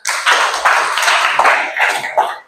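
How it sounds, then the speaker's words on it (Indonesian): A classroom of students gives a short round of applause in an Islamic religious education lesson, a loud, close, uneven patter of many hands that tapers off after a couple of seconds. "tepuk tangan dulu untuk kita semua"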